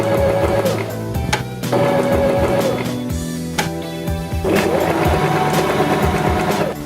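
A Janome 523H sewing machine stitches a zigzag in short bursts of busy mechanical whirring and clicking, stopping and restarting several times, close and fairly loud.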